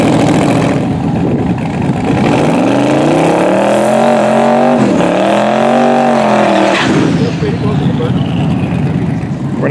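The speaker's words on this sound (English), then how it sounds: "We got a Pro Tree No Time Mustang here with a parachute on it." Pro Tree no-time Mustang drag car fitted with a parachute, its engine rising in pitch through hard acceleration, briefly shifting then pulling away into the distance, loud and close, with a commentator talking over it.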